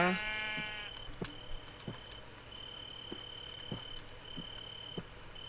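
A sheep bleats once near the start in Minecraft, a clear quavering cry up close, followed by a steady chirping insect tone and soft periodic taps, no voices.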